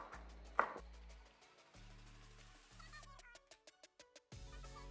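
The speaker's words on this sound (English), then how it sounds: "Chop the parsley," Knife chopping parsley roughly on a board: a quick run of sharp, evenly spaced chops, close and clear, with background music.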